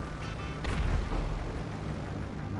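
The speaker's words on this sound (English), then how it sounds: "I heard an explosion." An explosion goes off in GTA V Online as a broad, rumbling boom with a burst of noise that swells and slowly fades, fairly loud, with no talk over it.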